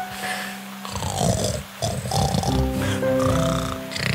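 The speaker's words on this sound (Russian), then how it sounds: "Он так сильно храпел, что даже ветви дерева сотрясались от его храпа." Deep, rumbling snores from a wolf in a children's fairy tale repeat close up, each long breath rasping and snorting with a growly, animal-like rattle.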